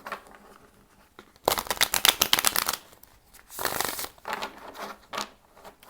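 Tarot cards riffled and shuffled in two brisk bursts, close and crisp, with quieter handling and faint rustling between them.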